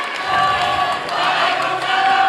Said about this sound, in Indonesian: silakan beri tepuk tangan yang meriah dulu untuk sesi tanya jawab 3 calon presiden ini